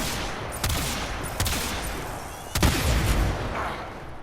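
Tombfinger kit gun firing in the video game Warframe against level 100 enemies, a few sharp booming shots spaced about a second apart over continuous rumbling battle noise.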